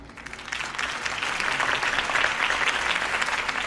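Steady, dense applause from a large crowd at a campaign speech in the video game Telltale Batman, loud and sustained throughout with no break.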